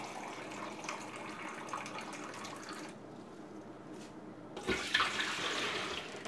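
Water running from a home well-water purifier, a steady splashing stream at close range that cuts off briefly midway and then resumes louder, with no talk.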